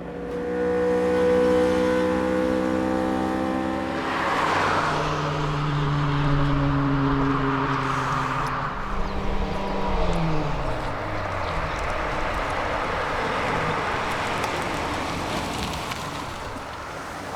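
A 600 cc, 57-horsepower Honda S600 sports car engine while driving, revving high and buzzy, climbing and falling through several gear changes, with wind rush throughout and no talking.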